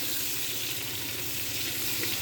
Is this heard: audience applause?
no